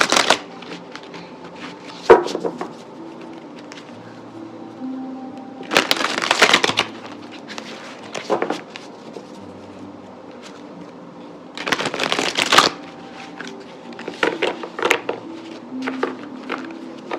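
Tarot cards shuffled by hand in three separate bursts of brisk riffling and flapping, close and fairly loud, with small taps and card handling between bursts and no talking.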